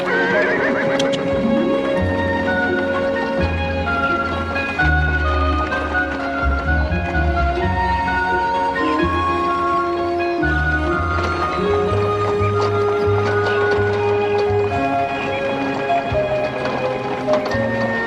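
Horses neighing repeatedly with hooves clip-clopping beneath, a loud, busy scene of several animals close by over about eighteen seconds.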